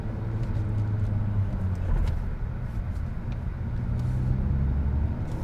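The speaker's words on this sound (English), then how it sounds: "start giving it a bit of gas while letting go of the clutch slowly" A 2020 Honda Civic Si with a manual gearbox gives a steady, low engine rumble from inside the car as the clutch is let out and it pulls away.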